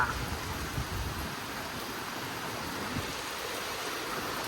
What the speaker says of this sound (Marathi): आता पाऊस चालू झाला